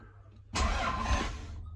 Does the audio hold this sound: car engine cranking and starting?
yes